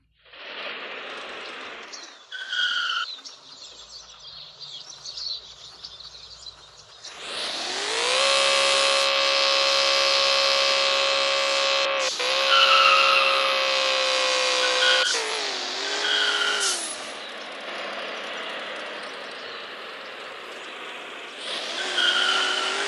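Engine and tire sounds in the American Classic Muscle Car 2 mobile racing game: a muscle car engine revs up into a sustained high roar, with tire squeals and skids, shifts in pitch and a few quieter gaps.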